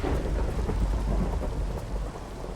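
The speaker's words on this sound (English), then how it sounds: "Run away because I don't want to get hit by lightning" Thunder rolls after a lightning strike in the game Reclamation, a loud, continuous low rumble with rain-like hiss, steady throughout with no voices.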